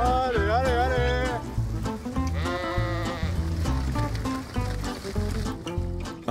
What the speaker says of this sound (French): Il ne reste plus qu'à y envoyer les moutons.